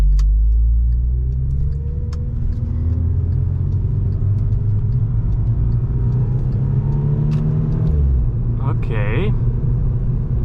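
Volkswagen Scirocco R engine heard from inside while driven in manual mode: a steady, loud low rumble with rising revs throughout, a shift near the end, and a brief spoken word over it.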